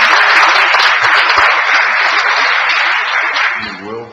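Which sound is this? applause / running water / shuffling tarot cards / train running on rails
applause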